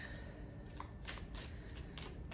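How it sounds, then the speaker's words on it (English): Oracle cards being shuffled by hand, with soft repeated papery riffles and flicks in quick irregular bursts, close and quiet. "I'm just gonna bring all these cards back and keep shuffling"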